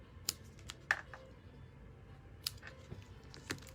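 Scissors trimming card for a handmade birthday card, with a few faint, sparse snips and small clicks at a close distance, set against quiet room tone and no speech.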